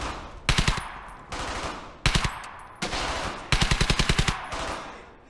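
Bursts of rapid machine gun fire ring out in the World War II shooter Hell's Highway, five sharp volleys of several rounds each, loud and close, separated by short gaps of battle ambience.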